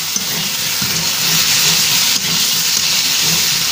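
Water poured into a hot pan holding turmeric-and-salt-coated tilapia, a loud continuous hiss of steam close up with no voices.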